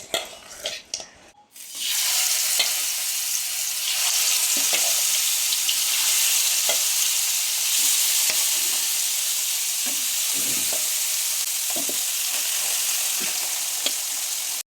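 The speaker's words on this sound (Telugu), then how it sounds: "ఈ కలవలు అనేది ఇలా ఫ్రై చేస్తేనే సూపర్గా ఉంటుంది" Fish, coated in chilli, turmeric, lemon and masala, sizzles and spits steadily in a hot pan, a loud continuous frying hiss with occasional small pops and stirring scrapes, after a brief quiet start.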